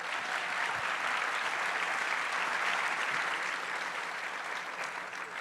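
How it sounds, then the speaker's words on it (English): A book tour audience in Portsmouth, New Hampshire breaks into sustained applause, many hands clapping in a thick, even roar that stays loud and steady before tapering a little at the close. "I think that deserves a little applause."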